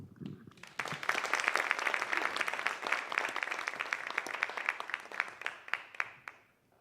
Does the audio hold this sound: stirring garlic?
no